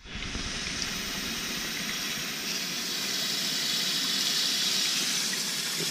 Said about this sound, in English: Get those stinging nettle tops rinsed off into a cooking pot